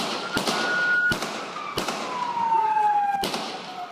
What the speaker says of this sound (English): 9 shots were fired.